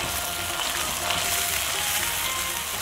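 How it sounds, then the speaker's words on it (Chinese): Soybean paste fries hard in a hot wok, a loud, steady, dense sizzle that carries evenly throughout with no talking over it. "下入一碗黄豆酱，把黄豆酱的咸气炸出来，炒掉水气"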